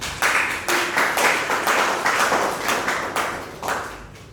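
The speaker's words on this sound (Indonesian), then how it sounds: "Tepuk tanganlah dulu untuk mereka." A classroom group applauds a student group that has just finished presenting, with steady, dense clapping from many hands at close range for several seconds and no talk over it.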